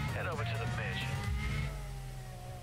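Car engine driving in Need for Speed Undercover, a Nissan R35 GT-R, humming steadily at moderate volume under someone talking, fading slightly toward the end.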